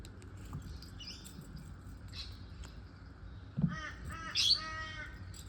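A crow caws a few times outdoors, the harsh calls rising near the end over faint background rustling and soft indoor activity.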